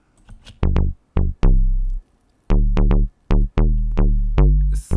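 Amapiano synth bass preset played in FL Studio, a series of deep, rounded bass notes in a syncopated pattern, each with a soft attack and quick decay, some held longer, loud and alone.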